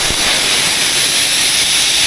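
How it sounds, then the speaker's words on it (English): A loud, steady rush of compressed air venting from a heavy wrecker's air brakes in a continuous hiss that holds without a break for about two seconds. "going to dump all the air out of that, set the brakes back here"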